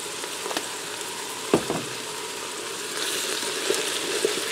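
Taco mac and cheese ingredients sizzle on the saute setting of a Ninja Foodi pressure cooker, a low steady frying hiss with a few sharp clinks and scrapes of stirring.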